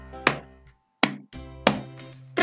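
Palms slapping the chest in a body-percussion exercise: three or four close, firm thumps set apart by short pauses, with a musical backing humming underneath.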